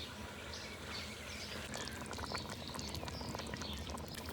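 A small splash of water pours into a cooking pot of carrots, peas and radish, giving a steady, close liquid pour with some sizzle-like hiss throughout.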